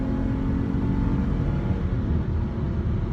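A 2017 Dodge Charger SXT V6 accelerates with a steady, loud engine rumble and whir that holds for several seconds, heard from inside the car with no voices.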